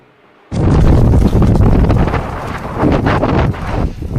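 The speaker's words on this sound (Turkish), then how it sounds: "büyük fırtına çıktı burada" Heavy wind from a strong windstorm blasts and buffets the microphone in a loud, continuous roar with gusting surges, after a brief quiet start.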